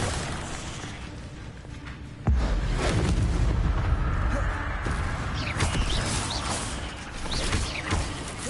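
The Incendio fire spell bursts out in the video game Hogwarts Legacy, a sudden loud whoosh and roar of flame that jumps in and then holds as a sustained crackling rush, with combat noise around it.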